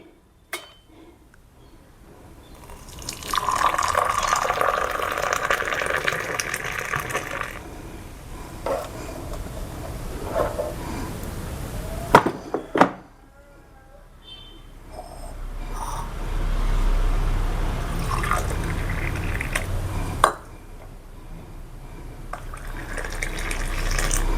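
Hot water is poured into a cup holding coffee powder and a little jaggery, in several gurgling, trickling pours with brief pauses and clinks between, close up.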